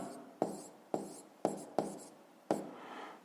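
Pen or pencil scratching across paper while working out a physics problem, five sharp strokes starting abruptly at irregular intervals, each trailing off into a soft scrape, close and fairly quiet with no voice.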